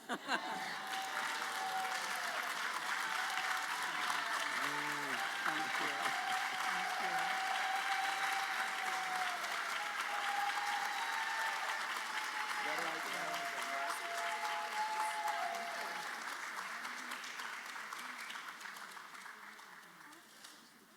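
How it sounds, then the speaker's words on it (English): Sustained round of applause from a crowd at a university school of social work awards celebration, steady and full for most of the stretch before slowly fading, with a few voices and chuckles mixed in. "help me with a big round of applause to say, yes, Beth, you are fabulous"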